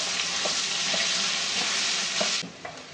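Potatoes frying in hot oil, salted, give off a loud, steady, broadband sizzle with a few soft clinks of stirring. The sizzle drops away sharply near the end.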